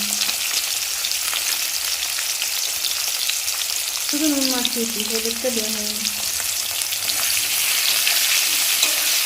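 Crab sizzles and crackles steadily in oil in a pan, close and constant, while a voice briefly speaks over the frying midway.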